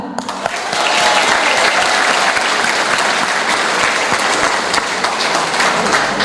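A crowd at a PMSD women's party congress in Mauritius breaks into loud, sustained applause after a brief quieter moment, a dense wash of clapping that fills the hall and holds steady to the end.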